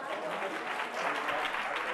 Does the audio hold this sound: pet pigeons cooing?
no